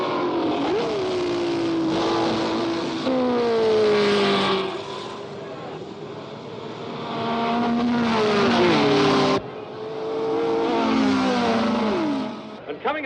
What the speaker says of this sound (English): Coming up the main straight now is number 4, Jean-Pierre Sarti's Ferrari in 14th place